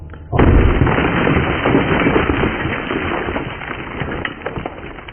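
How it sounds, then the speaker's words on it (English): A rock blasting charge fires in a drill hole to break up an oversized boulder at a mine, a sudden close, heavy boom followed by a long rumbling, crackling debris roar that holds loud for several seconds. "So we're gonna shoot this rock and get out of the way because it's too big."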